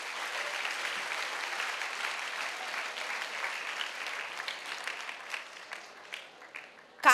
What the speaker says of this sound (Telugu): So first clap for your self everyone.